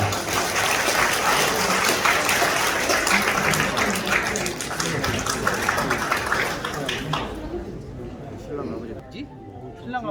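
Wedding guests at a Korean ceremony break into dense, sustained applause that fills the room, fading away near the end while an announcer's voice is heard.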